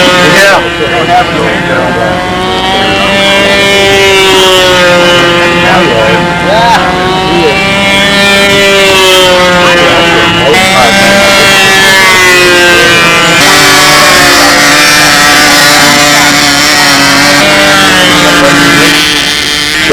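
A four-stroke glow engine powers a semi-scale Airacobra control-line stunt model at a windy 1998 Brodak Fly-In, its loud, steady whine rising and falling in pitch as the plane circles, with no pause for the full stretch.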